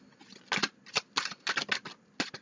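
Tarot cards shuffled by hand, a run of crisp, irregular snaps and riffles close to the listener, moderately quiet, with no talking.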